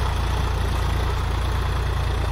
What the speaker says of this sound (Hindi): ये जो ट्रैक्टर है किसान ने लिया है